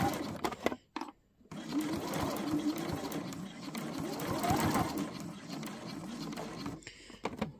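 Sewing machine back stitching the fabric of a scissor pouch, a close rapid mechanical whirr running in bursts with brief pauses, while a person talks over it.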